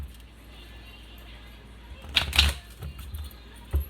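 Tarot cards are shuffled by hand close by, with quiet rustling and a couple of short, crisp riffling bursts around the middle, then a final soft tap.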